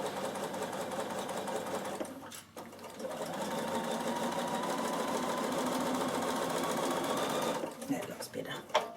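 A sewing machine stitches a seam of fabric for a triangle pouch, humming steadily and continuously at moderate volume before stopping near the end, with a voice talking briefly.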